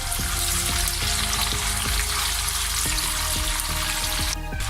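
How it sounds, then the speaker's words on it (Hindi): Steady, loud sizzling of onions frying in a hot pan, with occasional light stirring clinks, continuous throughout. "इसमें प्याज को हम गोल्डन ब्राउन करेंगे।"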